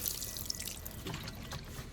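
Liquid fertilizer water poured onto the base of potato plants in a container, a soft, steady trickle and splash, fairly quiet and close, with no voices.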